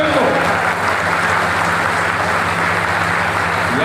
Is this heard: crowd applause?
yes